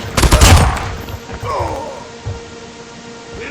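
Video game gunfire bursts out loudly at the start, a rapid cluster of shots, followed by quieter game effects and a few further faint pops.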